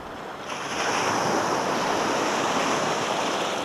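Big waves crash onto an Åland shoreline under gusting wind, a loud continuous roar of surf with wind buffeting the microphone, swelling after the first half second and holding steady.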